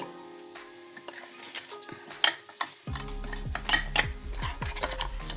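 Okra with garlic and chili powder is stirred in a pan, a spoon scraping and clinking against the metal in quick strokes, then a steady sizzle rising as the frying picks up partway through.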